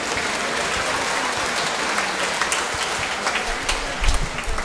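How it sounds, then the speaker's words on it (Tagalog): A congregation at a New Year's vigil Mass for the Solemnity of Mary, Mother of God, applauds in a sustained dense roar of clapping, with a few louder nearby claps and some low crowd noise toward the end. "Palakpak."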